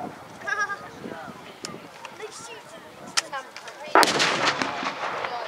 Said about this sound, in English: I think we need to return some fire here.